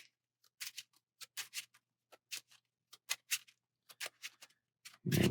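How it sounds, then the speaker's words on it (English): A deck of Marvel Champions game cards is shuffled by hand at close range. Quiet, crisp bursts of riffling come in short irregular clusters separated by silence, ending with a louder thump. "And shuffle."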